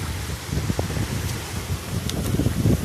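Strong wind gusts across a reservoir, Nong Pla Lai, giving a continuous rustling rush with rising and falling gusts, close and fairly loud, with no talking.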